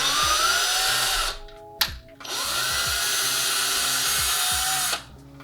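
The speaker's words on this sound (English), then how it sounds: "I'm just progressively using a bigger drill bit till I get to the hole size that I need" A power drill whines steadily while boring a hole with progressively bigger bits for a lamp cord tube, pausing briefly before revving up again for a few more seconds, close and loud.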